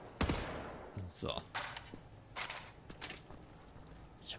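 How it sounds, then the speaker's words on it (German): Bursts of gunfire in the shooter game Wolfenstein: The New Order, several sharp shots and short volleys spaced across a few seconds, fairly quiet and close. "Ich habe mich schon gewundert, wo kommen auf einmal die Schüsse her?"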